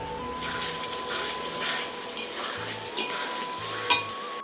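Onion, garlic and ginger fry in a pan for chicken curry: a continuous hissing sizzle broken by three distinct clacks of a stirring utensil against the pan, over a faint steady hum.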